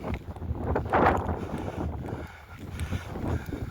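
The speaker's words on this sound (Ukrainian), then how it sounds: "І знову вітер, як завжди. Без мікрофона, звісно, тут тяжко знімати відео." Gusts of wind buffet the microphone in rough low rumbles, swelling and easing over a few seconds, with no speech.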